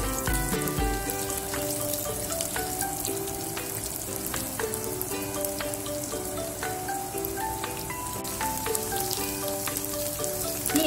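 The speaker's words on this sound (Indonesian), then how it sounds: "Sekarang kita goreng ikan terinya ya." Anchovies (ikan teri) frying in hot oil, a dense steady sizzle with crackling pops running loud and close throughout, no talking.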